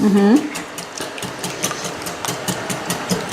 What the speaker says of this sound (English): On it, and then we mix.